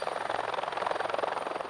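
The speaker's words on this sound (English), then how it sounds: "military helicopters are bound for a mountaintop" Military helicopters flying over Canada's Arctic far north, a steady, loud rotor drone with rapid blade chop throughout, close and continuous with no voices.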